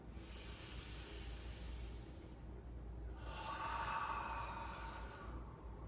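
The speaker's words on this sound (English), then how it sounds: "exhaling everything out" A forceful breath pushed out through pressing palms in a breathing exercise, a long airy hiss-like exhale that swells, dips and rises again over several seconds, close but soft against a low steady hum, with no voices.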